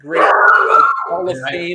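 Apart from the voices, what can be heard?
golden doodle dog barking in the background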